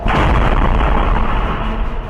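A large missile explosion in a residential area of Tel Aviv, a loud sustained boom with heavy low rumble filling the whole clip, close and powerful, with no voices.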